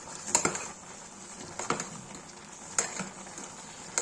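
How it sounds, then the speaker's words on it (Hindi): Green peas and salt frying in hot oil in a pan for an aloo matar curry: a quiet, steady sizzle broken by a few sharp stirring scrapes and clinks. "तेल में मटर पनीर मटर भी डाल दिया है, नमक डाल दिया है, भूनेंगे"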